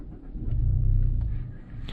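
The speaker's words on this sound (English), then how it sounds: "let's just start the car" A 2019 Mazda 3 hatchback petrol engine starts with a brief low rumble that swells, holds for about a second, then settles to a steady idle.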